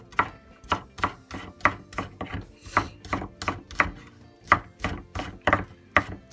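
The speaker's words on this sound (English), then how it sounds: "slicing an onion can make you cry. Oh my god, my eyes is burning. So now let's just chop this." A knife chops an onion on a cutting board in a rapid, even series of sharp close knocks, about two per second, with no talk over them.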